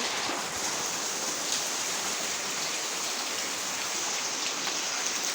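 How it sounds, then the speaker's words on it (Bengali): Heavy rain pours down in a dense, constant hiss that stays even and loud from start to finish, with no voices. "এটা হচ্ছে বৃষ্টির পানি"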